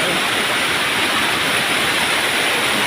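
Huai Ka Om waterfall gives a steady, loud rush of falling water that fills the air, a constant broadband roar with no voices.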